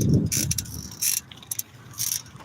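Loose kickstand on a mountain bike ticking and rattling while riding, a quick series of sharp metallic clicks that come in bursts at close range, with no voices.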